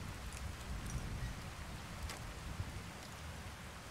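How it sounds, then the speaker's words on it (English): Steady rain in Skyrim patters softly on surfaces, a continuous hiss with scattered droplet ticks, faint and uninterrupted, with no talking. "Maybe it's because it's raining."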